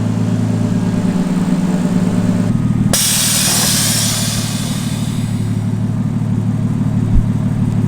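A Honda Civic engine warms up after a spark plug change, idling with a steady, loud, close rumble and a brief burst of broadband hiss partway through.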